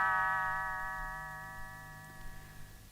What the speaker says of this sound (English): You will know it is time to turn the page when Tinker Bell rings her little bells